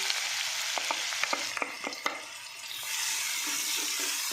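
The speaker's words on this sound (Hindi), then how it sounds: "इसे अब फ्राई कर लेंगे हल्का सा गोल्डन होने तक" Onions sizzle and fry in hot oil with roasted spices for beef liver masala, a steady loud hiss broken by sharp crackles and the scrape of stirring partway through.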